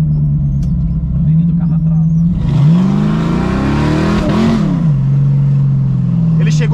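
A Chevette fitted with a V8 engine revs hard, its steady drone climbing to a loud high-pitched scream at the rev limiter before dropping back to idle, with people talking nearby.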